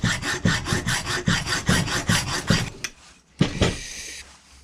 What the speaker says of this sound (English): I'll probably just use a hacksaw.